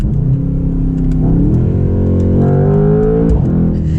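A Mercedes C63 AMG convertible's turbocharged engine revs hard under acceleration, its pitch climbing steadily and then dropping briefly as it shifts before rising again, loud and close with constant engine drone and no talk.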